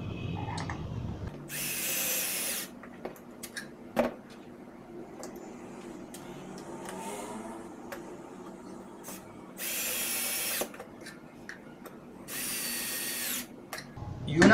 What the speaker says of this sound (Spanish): utilizamos los tornillos para hacer la unión